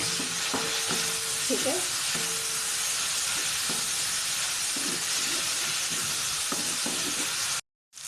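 Chicken fries in a pan on a high flame, giving a steady close sizzle and hiss. Occasional scrapes and clinks of stirring sound over it, a voice speaks briefly, and the sound cuts out just before the end.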